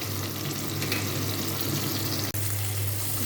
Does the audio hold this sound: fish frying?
yes